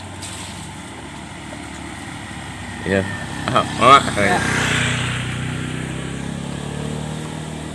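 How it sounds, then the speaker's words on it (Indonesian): A truck creeping slowly along a village road in the morning, a low rumbling engine that swells gradually as it draws closer, under brief bursts of nearby talk. "ini pelan-pelan truk lewat nih ya"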